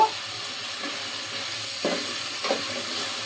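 Chopped bottle gourd tipped into a hot pan with spiced shrimp and tomato, giving a steady broadband sizzle with a couple of brief louder bursts as pieces land and are stirred, no talk.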